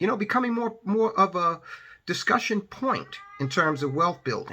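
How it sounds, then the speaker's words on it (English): A house cat meows briefly, a short tonal cry partly buried under a person talking steadily close by. "Now, that was the cat."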